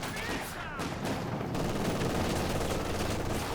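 Rapid machine-gun fire in a World War II tank strategy game match, a dense continuous rattle of overlapping bursts and impacts, with a commentator talking over it.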